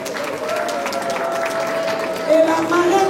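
An audience at an International Women's Day event in Ottawa applauds and cheers for Wanawake, steady clapping that swells near the end, with a voice speaking over it.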